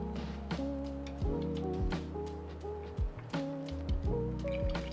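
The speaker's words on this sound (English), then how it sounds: "I'm trying to wet all the coffee grounds, like the floating coffee grounds, and then concentrate in the middle" Hot water pours from a kettle onto coffee grounds in a pour-over brewer, a steady close trickle and splash with a rising fill tone, broken by short pauses and drips.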